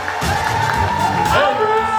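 A wedding reception crowd cheering and whooping in a brief loud burst, with an amplified announcer's voice ringing through the room.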